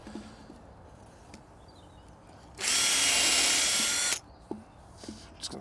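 After a few light knocks, a power drill whirs loudly for about a second and a half pre-drilling a pallet wood slat, then stops, followed by small clicks.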